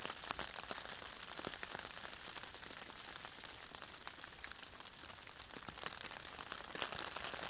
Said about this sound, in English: the drizzle's arrived.